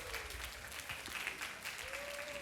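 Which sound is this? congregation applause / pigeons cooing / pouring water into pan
congregation applause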